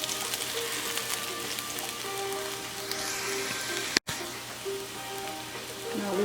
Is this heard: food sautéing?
yes